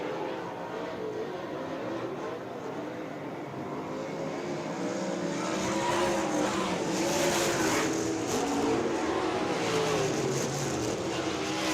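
USAC race cars roar around the dirt track at Mohave Valley Raceway as a steady, distant engine drone that swells louder through the second half, with no talking over it.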